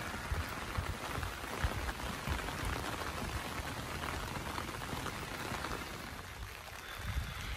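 Steady rain pattering on surfaces outdoors during flooding at Königssee near Berchtesgaden, a dense continuous hiss of drops with occasional footsteps or handling noise, close and even in level.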